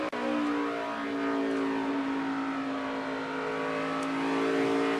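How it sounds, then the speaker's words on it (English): NASCAR stock cars racing at Phoenix in 2012, a steady loud engine roar with shifting pitch as cars run laps together, sustained throughout with no voices. "Carl Edwards makes the pass on Regan Smith"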